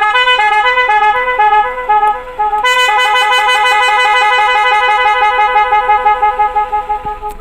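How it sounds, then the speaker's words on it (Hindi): A loud aftermarket relay car horn sounds almost without pause, a steady multi-tone blare with one brief dip before it resumes, close and dominant throughout. "ये हॉर्न बहुत ज़्यादा लाउड है"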